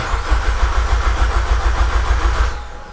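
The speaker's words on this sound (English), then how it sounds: "I'm going to try and crank the car." A Mitsubishi Evo X engine cranks without catching, its starter turning over in a steady, rapid pulsing rhythm for about two and a half seconds before winding down, loud and close with no talk.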